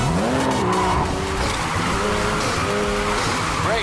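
Video-game race car in Need for Speed Heat drifts with sustained tire squeal and skidding over a loud, rising and falling engine whine, close and continuous throughout.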